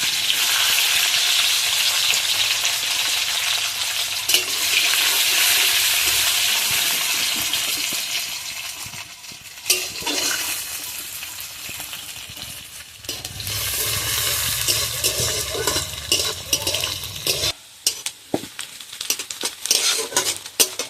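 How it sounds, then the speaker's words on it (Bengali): Chopped onion and green chilli sizzle in a hot pan. Stirring and the clatter of a utensil against the pan grow busier and more broken in the second half. "এবার আমি পেঁয়াজ কুচিটা দিয়ে দেবো আর সাথে আছে কাঁচা লঙ্কা"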